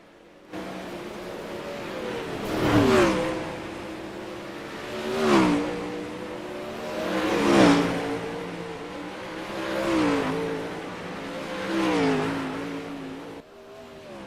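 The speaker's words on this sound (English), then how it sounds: "So cars are on the track right now, running it in as we are waiting for qualifying here at the Speedway" Sprint cars lapping a speedway oval before qualifying, engines rising and falling in a steady rhythm as each car roars past roughly every two and a half seconds, loud and continuous with no talk.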